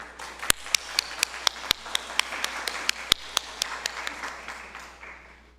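A church congregation at a Sunday service in Kaohsiung claps together in a quick, even rhythm of sharp claps that fades out after about five seconds.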